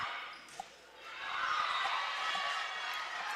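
Crowd noise swells at a college volleyball match, Alaska against Black Hills State, as fans rise together on a serve, a broad sustained roar building to a loud peak and holding, with one brief sharp bounce early on.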